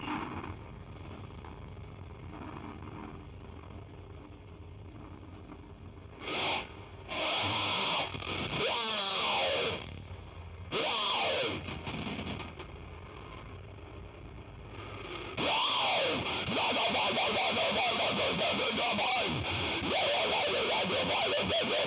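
Electric guitar run through heavy distortion and effects on an iOS guitar amp app, a gritty, saturated tone with bursts of feedback-like squeals and pitch sweeps, loud and alone, starting and stopping in blocks.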